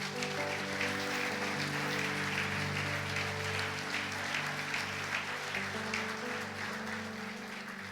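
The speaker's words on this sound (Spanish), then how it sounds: "¿Cuántos le pueden dar un fuerte aplauso a Jesús?" A church congregation claps steadily during a Sunday service while sustained keyboard chords ring underneath, the applause filling the room evenly from start to finish.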